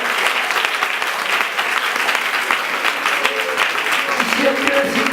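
A church congregation applauds loudly and continuously during a worship service, dense crowd clapping filling the room throughout with a few voices mixed in.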